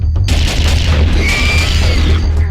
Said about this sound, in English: You go, pew pew pew, and it sounds like a futuristic gun shooting and lasers